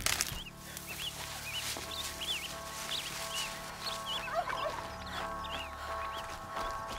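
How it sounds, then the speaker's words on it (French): A turkey gobbles in the video game Horizon Zero Dawn, giving a string of short warbling calls over a steady low ambient drone. Occasional other bird-like chirps mix in. "Ah, dindon."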